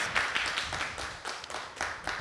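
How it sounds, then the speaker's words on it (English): Scattered clapping from an audience at a community college student development seminar, greeting prize winners in a steady patter of hands, moderately close, with no talk over it. "Yes, you can applaud."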